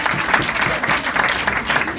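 Audience applause at a meeting in support of Eastern Christians, a dense, steady round of clapping that stays strong for the whole moment.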